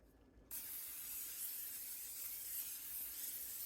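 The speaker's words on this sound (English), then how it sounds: "use a little cooking spray" A steady close hiss of cooking spray starts abruptly and continues without a break for several seconds.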